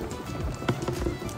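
Horse hooves clip-clopping at a quick pace in Finland over a busy, noisy background, with faint voices around.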